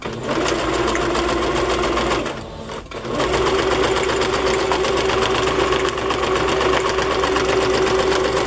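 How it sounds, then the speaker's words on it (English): A sewing machine stitches across the top of a paper journal page, whirring in a steady, loud, close mechanical hum that pauses briefly about halfway before starting again. "just stitch it at the top here"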